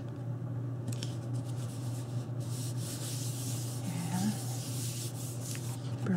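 Paper is burnished along a fold of a paper camera album box, giving a soft, close, continuous rubbing and scraping sound at low level.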